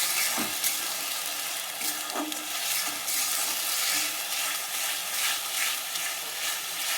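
Ground gadal leaf paste frying in a pan, a dense, even sizzle that holds steady throughout with a few faint stirring knocks and no talking.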